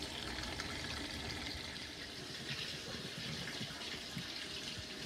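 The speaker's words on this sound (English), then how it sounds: "So still transferring to the fermenter." Beer wort for a simple bitter pours into a fermenter on a home brewing day as a steady, soft gushing of liquid, continuous and fairly faint, with no talk.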